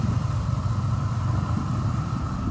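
A 2002 Dodge Ram 1500 pickup's engine idles in a steady, low rumble continuously without change in pitch, close and fairly loud, with no voices.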